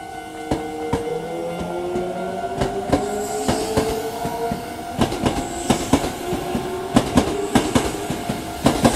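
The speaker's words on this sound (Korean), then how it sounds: "멈췄던 전철도 출발했습니다." A stopped commuter train pulls away from Keisei Tateishi station in Katsushika, Tokyo, close by and loud, with rhythmic clickety-clack of wheels over rail joints quickening as it departs and a motor whine rising in pitch underneath.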